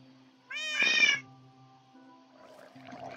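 A Minecraft cat gives one clear, close meow lasting under a second, set against the game's steady background music, with quieter in-game sounds following.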